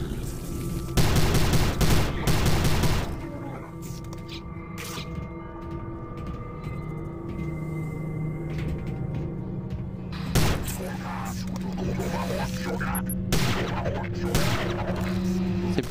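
Gunfire in the sci-fi shooter game Prey: a dense burst of shots up front, then further sharp reports over a steady hum of game ambience, with a voice talking intermittently.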